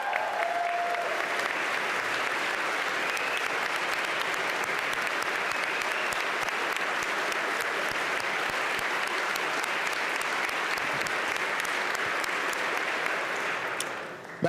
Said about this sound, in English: there were some members of the Senate who rose to clap for Ms. Holmes Davis